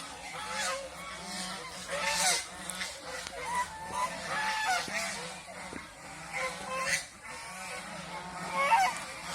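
A flock of domestic geese honks continuously at close range, with overlapping calls rising and falling in a busy, noisy chorus from farm-raised birds.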